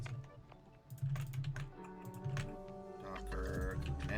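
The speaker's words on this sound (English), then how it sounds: "I feel like my keyboard is squeaking for some reason." A computer keyboard clatters under fast, dense typing, the key presses close and busy with faint squeaky tones mixed among the clicks.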